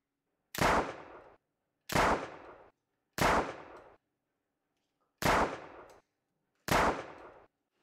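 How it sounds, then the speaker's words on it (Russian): Five sharp Makarov pistol shots at a police training range, fired singly at an uneven pace about a second apart, each a loud crack with a short decaying tail and silence between. "У Матвеевой один из лучших результатов по стрельбе из пистолета Макарова среди женщин-сотрудниц городского отдела полиции."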